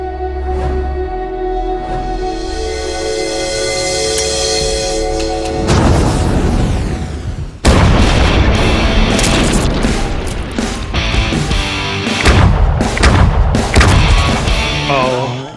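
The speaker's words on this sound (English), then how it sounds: "This thing is basically like a handheld shotgun." A handheld shotgun-like launcher fires at eggs outdoors, with a steady rumbling hum, then a sudden loud blast and crashing debris, followed by further thumps and bursts.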